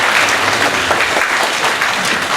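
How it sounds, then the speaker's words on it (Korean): A church youth group audience gives loud, close, continuous applause after a worship song, with many hands clapping at once. "다시 한번 좀 박수 보내볼까요?"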